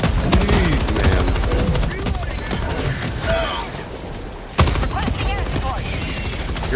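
Autocannon fire in Helldivers 2 rattles in fast, loud bursts alongside other gunfire, with a sudden break before the shooting resumes; voices talk over the battle.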